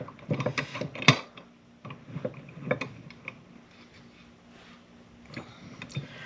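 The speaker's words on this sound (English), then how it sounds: "now I'm just going to tighten everything up" Bolts are tightened on a Dakota Lithium battery terminal, giving a series of close metallic clicks and ratcheting taps, busiest early on and then sparser.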